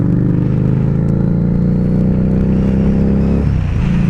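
A 2015 Harley-Davidson Street 750 motorcycle pulling away toward a highway, its engine note close and steady with a rough, pulsing drone that rises, then drops abruptly near the end as the throttle eases.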